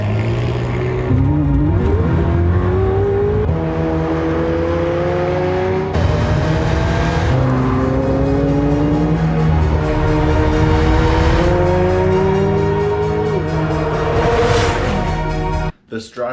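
McLaren 765LT V8 sports car accelerating hard, its engine note climbing through repeated rising sweeps as it shifts up, loud and continuous over about sixteen seconds with what sounds like commentary mixed underneath.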